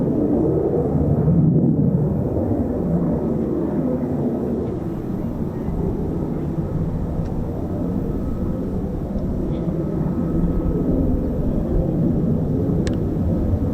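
A Fournier 6 light aircraft at RAF Marham gives a steady, broad engine drone that holds at a constant loudness throughout, with no clear rise or fade.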